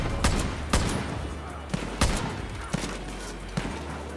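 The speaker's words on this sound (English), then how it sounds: "I'm shooting the guy on the mortar." Shots fire in Far Cry New Dawn at a mortar operator, with several loud, sharp cracks spaced irregularly across a few seconds over a steady low rumble.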